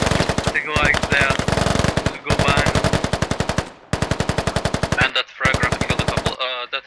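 Sustained machine gun bursts in the tactical shooter Squad, loud and rapid with short pauses between strings of fire, accompanied by other gunfire.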